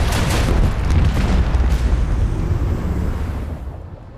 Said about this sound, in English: Macro cannons, volley.